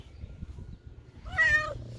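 A cat gives a single clear meow near the end, close and fairly loud, over low background rumble.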